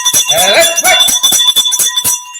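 A boxing ring bell clangs in a rapid series of about ten sharp metallic strikes, loud and close, ringing out before the announcer speaks.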